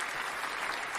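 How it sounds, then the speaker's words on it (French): A studio audience on a French game show claps continuously in a dense, steady burst of applause, close and fairly loud, with no voices standing out. "Maître Topi qui est applaudi par le public"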